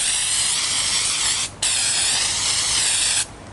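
Degreaser sprayed onto a mild steel firepit in two long, steady, close hissing bursts, separated by a brief pause, with no talking.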